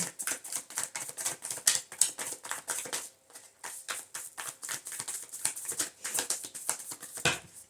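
Tarot cards are shuffled and drawn in quick, crisp flicking clicks and riffles, up close and fairly quiet, with a brief pause near the middle before the rapid card snapping resumes.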